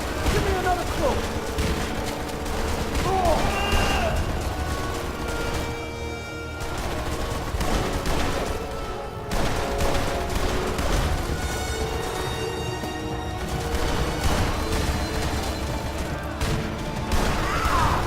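Gunfire in the crime-noir video game Blues and Bullets, a dense stretch of rattling shots and bursts running continuously for the whole span, mixed with game music and voices.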